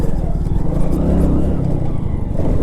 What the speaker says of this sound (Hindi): बहुत गाड़ियाँ आ गई हैं यार।